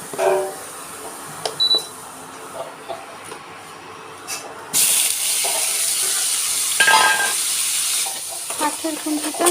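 Whole spices and turmeric hit hot oil in a home kitchen and burst into a loud, steady sizzle about halfway through, after a few quiet clinks and stirring taps.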